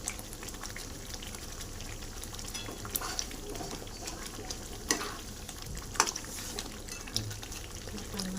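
Ginger-garlic mutton masala roasting in a pan while being stirred: a steady close sizzle with scraping spoon strokes popping out now and then.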